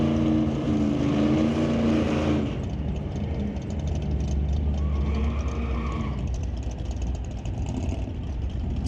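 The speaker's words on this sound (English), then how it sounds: "Bit of wheel spin off the starting line for the Demon." A '68 El Camino and a Dodge Demon launch side by side at an old-time drag race qualifying session, with loud, sustained engine roar that shifts to a lower, steady drone as the cars pull away.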